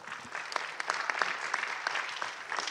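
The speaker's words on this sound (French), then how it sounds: "Je ne sais pas si tu entends les applaudissements, tu les entends ou pas?" An audience at a round-table conference on early diagnosis in anticipatory medicine applauds steadily, a dense patter of many hands clapping at an even level throughout.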